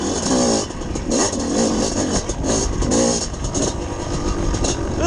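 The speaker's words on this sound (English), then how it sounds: "This bike just loves third gear so much, dude." A two-stroke dirt bike ridden in third gear through tight, rocky terrain, its engine loud and close with rising and falling revs, rattling over rocks throughout.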